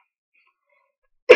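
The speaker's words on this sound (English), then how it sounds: "Sorry for the coughing." A single short, loud burst of coughing close by at the very end, after near silence.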